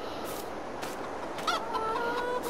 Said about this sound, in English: Got some chickens in here already.